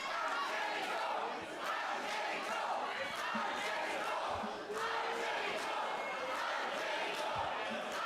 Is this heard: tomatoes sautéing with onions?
no